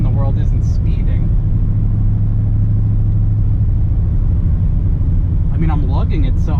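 An LSA V8-swapped Infiniti G35 lugs at about 1400 rpm, a steady deep engine drone with a throbbing low rumble that holds throughout, with a brief voice near the end.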